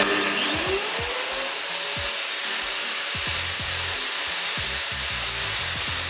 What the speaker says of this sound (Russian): Так, давайте проверим полировку на балансировку.